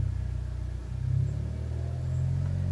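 A modified Seat Leon FR engine held just above 1000 rpm, a low steady idling rumble with a faint swell partway through, fairly quiet and alone.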